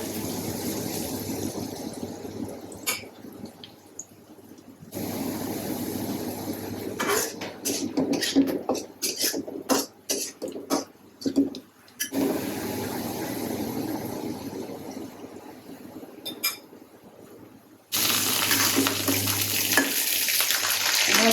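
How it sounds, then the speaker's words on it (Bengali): Chopped onions sizzle in hot oil in a home kitchen, a steady frying hiss broken by bursts of stirring and scraping, with the hiss swelling louder near the end. "তেল গরম হয়ে গেছে, পেঁয়াজ কুচি দিয়ে দিব"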